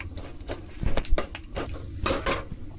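Chana dal and peanuts stirred in a pan with a metal spoon: a short run of clinks, scrapes and dry rattling of the lentils and nuts, close-up with no talk.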